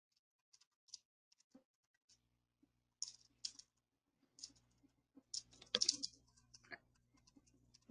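Scattered sharp clicks on a computer, mostly single with a few quick pairs, close and quiet, with faint low hum and soft rustle between them and no talking.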